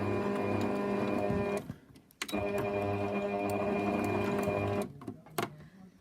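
A sewing machine runs a straight stitch along a cushion seam, a steady close mechanical whir with rhythmic ticking that stops briefly, restarts and runs on before trailing off into a few clicks.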